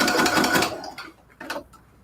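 Sewing machine stitching cathedral window quilt curtains, running fast and loud for under a second before slowing and stopping as it goes over a pin, followed by a few light clicks.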